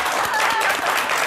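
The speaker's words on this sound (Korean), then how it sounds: "박수 한번 쳐요, 이제." Applause from a crowd, a steady wash of clapping heard at moderate volume, with a voice faintly mixed in.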